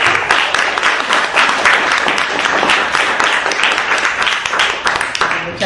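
Audience applause at the close of a 2013 academic seminar, steady dense clapping filling the room for several seconds, with voices murmuring underneath.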